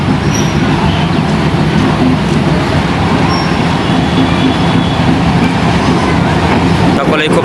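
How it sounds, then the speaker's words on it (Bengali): A train pulling in beside a crowded station platform, its loud continuous rumble and wheel noise filling the scene from close range, with people talking over it. "এই যে ট্রেনটি চলে আসছে একবারে আমাদের কাছাকাছি।"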